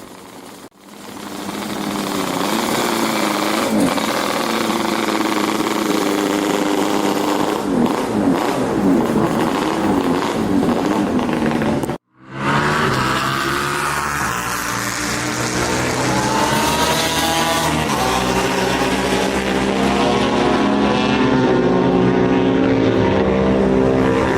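A Yamaha TZ750 two-stroke straight-four racing motorcycle engine screams at high revs, loud and close, with a brief cut around the middle before the sharp, buzzing wail resumes and rises.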